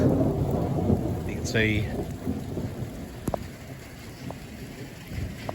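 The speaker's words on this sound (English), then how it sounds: "there's a big electrical storm going on at the moment" Heavy rain pours during an electrical storm while deep thunder rumbles roll through, loud and close, with a few sharp cracks and a brief spoken voice over the downpour.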